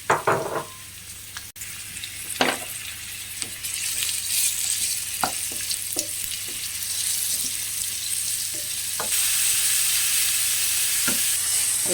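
Onions sizzle steadily in hot oil in a pan for yellow rice while a utensil stirs them, giving occasional sharp scrapes and clinks against the pan. The frying hiss grows slightly louder toward the end.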